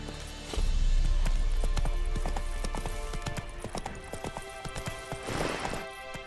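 Hoofbeats of a horse galloping in the video game The Witcher 3, a loud, steady clip-clop rhythm starting after half a second and carrying on throughout, with a brief burst of noise near the end.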